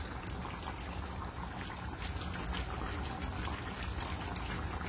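Goat colombo stew with courgette pieces simmering in a pot, a steady, close bubbling hiss that runs unbroken without talk.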